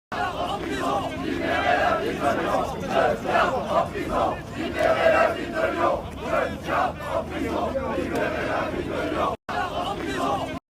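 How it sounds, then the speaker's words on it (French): A crowd at a street march chants slogans in unison, a steady, loud, rhythmic mass of voices continuing for several seconds with only a brief break near the end. "La foule reprend les slogans en nom de Quentin."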